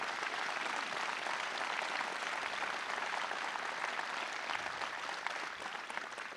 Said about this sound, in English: Let's give all of our law enforcement officers a round of applause.